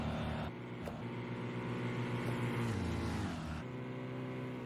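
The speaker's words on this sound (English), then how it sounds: "Donovan will win in Road America." GTE race cars crossing the finish line at Road America, a loud sustained engine roar with shifting pitch and a brief gear change, continuous and close throughout.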